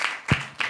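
Children at a Sunday school Bible quiz in church give a brief burst of clapping, a few quick claps close together and loud, with no talk over them.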